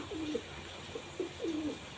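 A female pigeon coos in a few soft, low throaty phrases, close by, against a steady background hiss with no talking.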